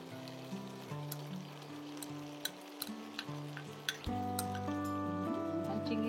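Black mustard paste goes into a hot pan and sizzles softly, with light spattering clicks and a louder surge near the end, under a steady tonal background.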